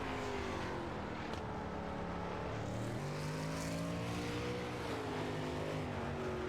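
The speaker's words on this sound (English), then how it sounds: "now the 14 of Colin Penn is out on track" An asphalt sprint car, the number 14, lapping a paved oval during a last-chance qualifier, its engine a continuous loud roar with pitch sweeps as it accelerates and backs off through the turns, heard alone.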